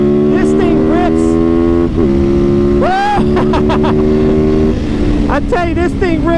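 Super sport motorcycle engine pulling loud and close, its steady harmonic drone rising and falling through gear changes, with brief sweeping revs and a voice talking over the ride.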